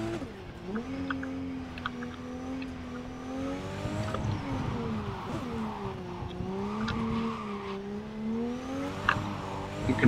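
A car drifting in Cyberpunk 2077 with a gliding engine whine that rises and falls, tires squealing under it and faint scrapes, moderately loud and continuous.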